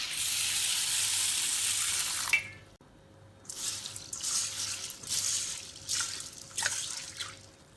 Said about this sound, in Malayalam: ഇത് നല്ലോണം മുങ്ങിക്കിടക്കുന്ന ഭാഗത്തിന് വെള്ളം ഒഴിച്ച്